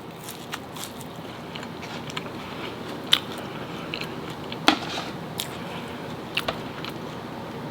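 Biting and chewing on homemade pickles, with small crunchy, wet bites spaced irregularly over a steady low background, a few sharper crunches standing out, close and fairly quiet.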